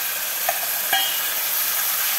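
Bottle gourd pieces frying in a pan give off a dense, steady hiss, with two brief clinks near the start, close and fairly loud with no talking.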